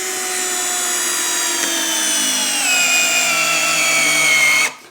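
A Festool CXS/TXS cordless drill bores through wood with a steady, close whine that slows slightly in pitch as it works, then cuts off abruptly at the end.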